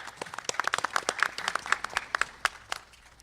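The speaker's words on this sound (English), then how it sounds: "Let's give them all a round of applause." Panel audience at a family autism forum claps in a scattered, uneven patter of individual hand claps, moderately close, with a few distinct sharp claps standing out.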